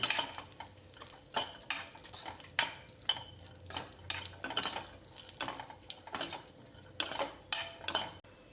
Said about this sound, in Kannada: ಹೆಸರುಬೇಳೆ ಪಾಯಸ ಈ ಥರ ಹುರ್ಕೋಬೇಕು ದ್ರಾಕ್ಷಿನ